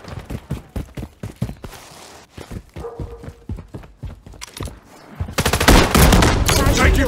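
Gunfire from the video game Call of Duty Modern Warfare 3 in a custom game mode: a rapid series of sharp shots through the first seconds, then a dense, loud sustained burst of automatic fire at the end.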